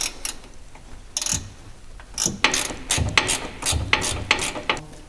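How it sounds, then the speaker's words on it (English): A spanner tightens propshaft centre bearing bolts with a run of close ratcheting clicks and metallic taps, loose at first, then quicker and denser, with no talk. "the final thing is to tighten up the centre bearing bolts"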